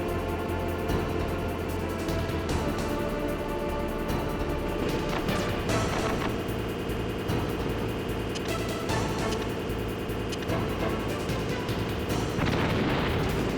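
Repeated claymore mine explosions in the 1998 PlayStation game Metal Gear Solid, set off against a fast-moving tank; a dense, continuous wall of loud booms and gunfire-like blasts with music-like tonal layers underneath, no talking.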